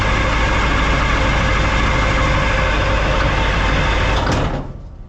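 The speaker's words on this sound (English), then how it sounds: "So I'll just crank the engine over for a bit." Vietnam-era M113 armoured personnel carrier engine cranking over without firing, suspected fuel fault; a loud, steady mechanical churn close by for about four seconds, then it stops and fades.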